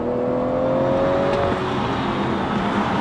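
A 2016 BMW 340i launching at full throttle from a standstill, a steady loud engine drone with a rising tone that climbs through the first gear, close and continuous with no talking.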